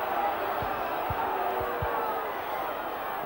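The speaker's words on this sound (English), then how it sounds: "The crowd in the south stand below having plenty to say." Stadium crowd noise from the south stand at a Leeds v Hunslet Yorkshire Cup rugby league match in 1992: a steady, distant roar of many voices with a few dull thumps, under a commentator talking.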